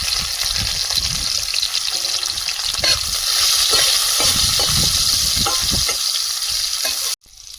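Onions frying in oil in a wok seasoned with panch phoron, giving a steady loud sizzle and hiss with scraping stirring strokes throughout, ending in a sudden cutoff near the end.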